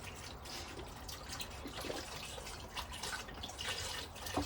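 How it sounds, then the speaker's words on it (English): Mushroom broth is poured into an Instant Pot of stew. The splashing and trickling is soft and steady at close range, with no voices. "I'm going in with the mushroom broth"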